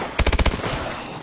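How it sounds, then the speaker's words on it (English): A machine gun fires a quick burst of about five loud, close rounds in a zombie shooter game, then a short fading tail of reverb, no voices. "I got a machine gun."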